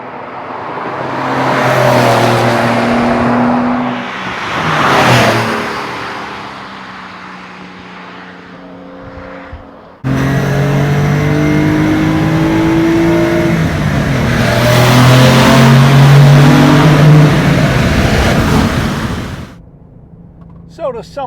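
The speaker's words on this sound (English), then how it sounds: "Carrera S 2-wheel drive turbo" Porsche Carrera S two-wheel-drive turbo engine revving hard while accelerating, loud rising pulls with a gear change near the midpoint, then a long sustained climb that fades away at the end.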